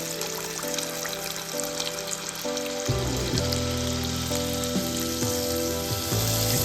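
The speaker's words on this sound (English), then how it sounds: "Onto a hot oil, pour a full ladle of batter." Mutta Surka batter poured into hot oil, a loud continuous sizzle that swells as the batter hits, with a bright frying hiss over a low rumble and overlapping tonal background music.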